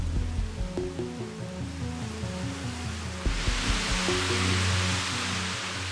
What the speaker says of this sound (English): The 25 waterfalls.